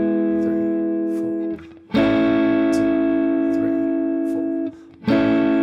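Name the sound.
guitar playing chorus of a song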